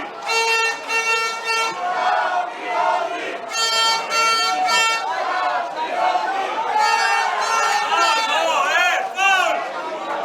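Away supporters of Korošec chant loudly at a Slovenian third-league football match against Kety Emmi Bistrica. The massed voices sing in rhythmic, sustained bursts that rise and fall continuously, close and full, with a commentator's voice under them.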